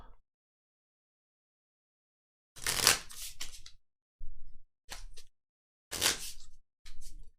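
A deck of cards shuffled by hand during a Keyforge card game, heard as several short crisp riffling bursts separated by silences, fairly quiet and close.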